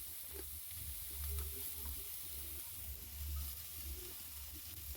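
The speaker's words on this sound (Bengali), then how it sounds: "ফুলকপিটা এবারে একটু নেড়ে নেব ভালো করে, একটু নাড়াচাড়া করে।" Cauliflower frying in hot oil in a kadai, stirred now and then, giving a soft steady sizzle with quiet scraping, close and faint, no talk.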